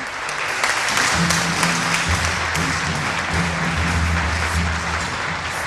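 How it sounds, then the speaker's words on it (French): A crowd claps continuously, dense and loud, with a faint voice or hum underneath. "Applaudissez."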